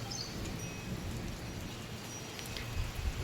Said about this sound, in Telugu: వాన వచ్చినందుకు చాలా ప్రశాంతంగా ఉంది